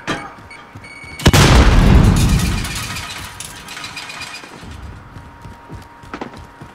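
A grenade explodes in Call of Duty Modern Warfare, a sudden loud boom followed by a long rumbling decay, with scattered gunfire and quieter impacts afterward.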